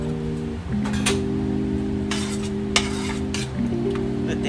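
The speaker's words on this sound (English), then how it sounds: "Let that butter melt." Butter melting in a pan for a broccoli cheese rice casserole, a continuous close sizzle with faint clinks and a steady low hum beneath, no talking.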